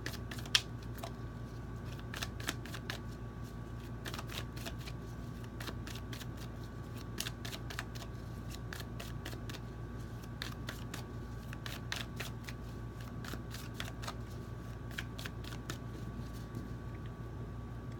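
A tarot card deck is shuffled and cut close by, giving a long run of quick light card snaps and riffles over a steady low hum, with no voices.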